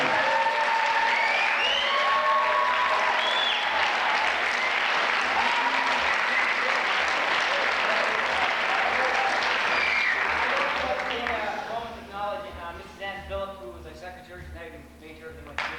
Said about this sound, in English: applaud all the competitors in this class